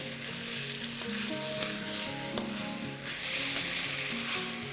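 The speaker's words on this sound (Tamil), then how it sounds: "எண்ணெயிலே இந்த காயை வந்து நல்லா எண்ணெயில வதக்கணும்." Mixed vegetables sauté in oil for a Chettinad vegetable dish, producing an even, dense sizzle throughout with faint stirring and clinks underneath.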